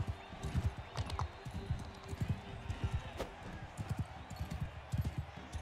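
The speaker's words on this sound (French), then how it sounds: "c'est un cheval" Horse hooves clip-clop in a medieval battle in Mount and Blade II Bannerlord, a steady run of quick hoofbeats layered with game noise while someone talks over it.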